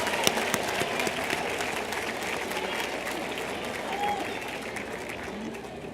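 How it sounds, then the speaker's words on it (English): Commencement crowd clapping for summa cum laude graduates in 2011: broad, sustained applause from a large audience, moderately loud and gradually easing toward the end, with faint voices mixed in. "Round of applause for our summa cum laude graduates."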